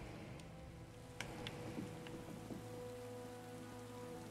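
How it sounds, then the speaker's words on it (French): Steady rain falling in the video game The Elder Scrolls Online, a continuous patter of drops on surfaces with a few sharper splashes and clicks, filling the scene without speech. "Est-ce que vous êtes sûr que ça vous protège de la pluie ce que vous portez"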